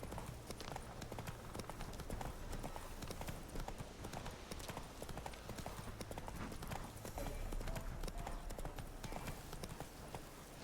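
Roach, the horse in The Witcher 3, trots with steady, rhythmic clip-clop hoofbeats that continue throughout at an even moderate level, with no talking.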